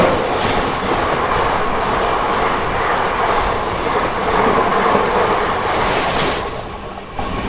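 Humsafar Express pulled by a diesel locomotive rolling again after a halt outside a station: a loud, steady, close rumble of moving carriages with faint wheel clatter throughout, no voices.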